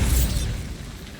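A Bombarda spell bursts in Hogwarts Legacy with a deep, loud boom that fades to a rumbling tail within half a second.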